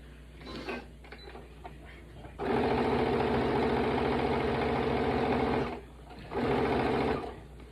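A sewing machine stitches straight down the edge of a star quilt block, running in a steady, close, loud motor hum. It stops briefly, then starts again.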